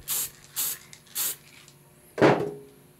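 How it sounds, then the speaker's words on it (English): Three short hissing sprays from an aerosol primer can on Airfix miniatures in quick succession, then a louder, lower thud-like burst that fades out. "a little spray there"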